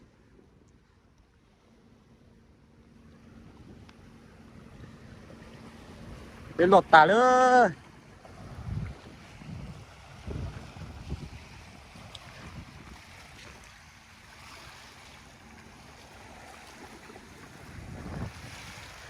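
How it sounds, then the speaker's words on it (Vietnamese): Sea waves and wind on a beach, a steady low rush of surf with gusting wind buffeting the microphone, under brief nearby voices and a short burst of louder talk. "Ô biển này đẹp thật."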